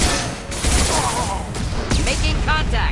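Shotgun fire in Mass Effect 2 during a firefight: loud, rapid bursts over heavy combat noise, with voices talking partway through.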